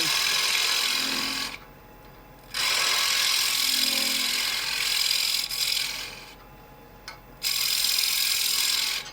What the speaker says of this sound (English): And on its side the gouge goes at the end of the cut.